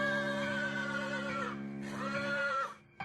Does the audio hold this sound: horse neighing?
yes